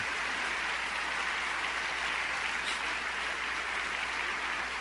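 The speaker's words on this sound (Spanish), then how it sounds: "¿No le dan un aplauso al Señor?" Congregation applause in a church during a Spanish-language sermon, a dense, steady wash of many hands clapping at once, broad and continuous without pauses and with no voices over it.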